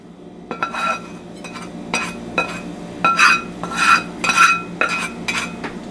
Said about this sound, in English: Try to mix it up a little bit so we get at least some on all 4 fish fillets.